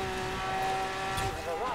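A Mosler race car driven in Forza Horizon 4 accelerates hard, its engine whine sweeping upward through gear changes with a faint tire squeal, steady and loud near the end, alongside a voice.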